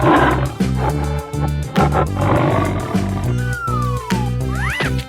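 A toy tiger gives a loud electronic roar over a busy, continuous backing of music and other toy sounds, with rising and falling tones and squeaks toward the end.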